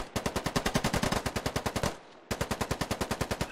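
Automatic gunfire in the military shooter Squad, a close, loud, evenly spaced rapid burst, a brief pause, then another steady burst with no talking.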